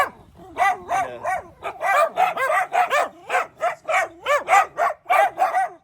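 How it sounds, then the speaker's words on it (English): A dachshund barks in quick, loud, close bursts, about a dozen sharp yaps in an uneven rhythm out on a street, with no talk over them. "Crazy dachshund."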